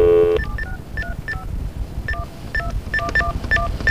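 Telephone keypad dialing tones beep in a quick irregular run of short DTMF pulses after a brief opening tone, clear and close over a low background hum.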